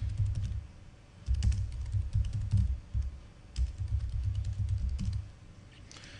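Steady bursts of keystrokes on a computer keyboard, close and moderately loud, with short pauses between runs of typing, as text is entered for a Photoshop edit.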